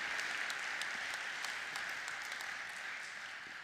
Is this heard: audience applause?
yes